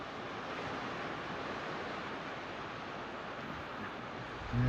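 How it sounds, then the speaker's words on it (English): Steady wind rumble presses against the microphone on a beach, a constant broadband rush like surf, with a louder buffet right at the end. "It's a bit windy."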